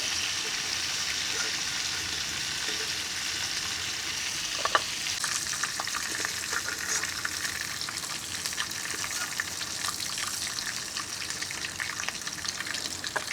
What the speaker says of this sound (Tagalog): Lutuin na natin itong ating kangkong prito din.